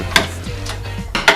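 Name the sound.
screw forced into computer case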